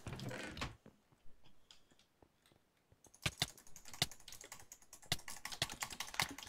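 Rapid clicking during a Minecraft session comes in dense, sharp bursts of close, crisp taps, sparse at first and then clustering quickly toward the end.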